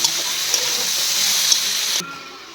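Lau data vegetable stalks frying in a pan, a steady bright sizzle with a soft crackle that cuts off suddenly near the end and leaves a quieter hiss.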